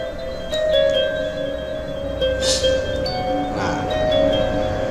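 Bell-like ting-ting chimes ring out in a mixed audio track, sustained tonal lines with a few brighter shimmering strikes layered over a steady bed of sound.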